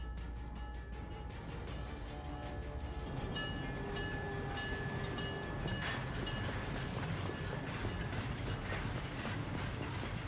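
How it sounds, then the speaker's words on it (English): A train departs in the video game Syberia The World Before, with a continuous mechanical rumble, rattling clanks and ratcheting gear noises building up over about ten seconds, with no voices. "The train for the airport is about to depart."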